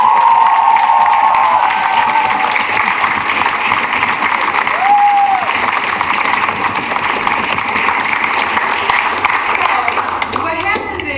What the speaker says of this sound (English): deserve a huge round of applause